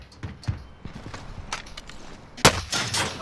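Gunshots ring out in a Fortnite-style duos video game, a few sharp cracks spaced irregularly over faint background noise, with one loud close burst near the end.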